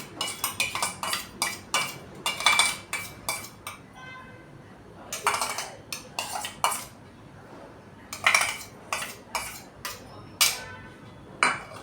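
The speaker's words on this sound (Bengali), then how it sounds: "সর্ষেটা উপর থেকে যাতে সবগুলো লাগে শিমের মধ্যে একটু নাড়াচাড়া করে নিলাম" Beans coated in strained mustard water are stirred in a pan with a metal utensil, giving repeated clinking scrapes in bursts with a short pause, close and fairly loud with no talking.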